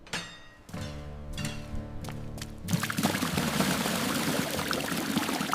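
Liquid drains from a cut fuel hose on an abandoned police car sunk in a swamp for 40 years, pouring and splashing steadily into a 20-liter bottle, growing fuller and louder partway through.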